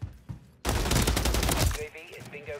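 Dense burst of rapid automatic gunfire from a first-person shooter game, loud and continuous for about a second after a brief lead-in, then tapering into game sounds and faint chatter.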